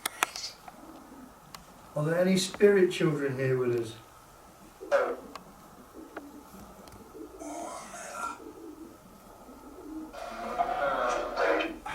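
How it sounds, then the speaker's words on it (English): Pigeons coo inside a church, soft throaty rolling calls, one near and clear phrase followed by fainter repeated coos, while people talk quietly in the room. "That's a pigeons, isn't it? Pigeons."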